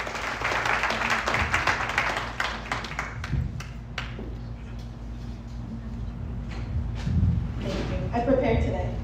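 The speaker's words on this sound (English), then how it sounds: "Give her a big round of applause" Applause at a volunteer appreciation and kick-off meeting for a 25th anniversary, the clapping fairly close at first, then thinning and fading into a quieter room with a few scattered claps.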